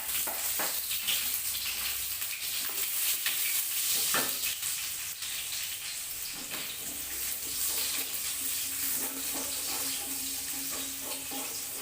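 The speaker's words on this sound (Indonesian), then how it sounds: "Nah, si minyak udah panas, saya langsung saya tumis bawang merah" Shallots sautéing in hot oil, a steady close sizzle and crackle running throughout with occasional stirring clicks and scrapes, no talking.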